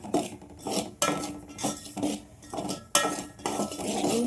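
A metal spoon rasps and scrapes around a pan while semolina (rava) roasts for laddu, making rhythmic strokes about every half second with sharper knocks at the turns, close and alone.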